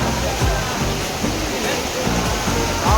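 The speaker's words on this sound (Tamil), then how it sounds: "குற்றால அருவிகளில் வெள்ளப்பெருக்கு, கடை வீதிகளில் காட்டாறு போல ஓடும் தண்ணீர்." The Courtallam waterfall in flood sends a steady, dense roar of rushing, crashing water that fills the whole scene without pause.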